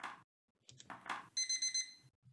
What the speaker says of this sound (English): Oh, now I heard the alarm.